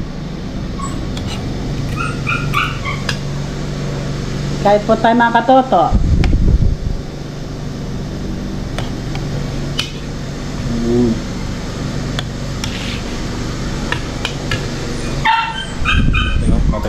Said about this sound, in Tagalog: Yun, ingay ng aso.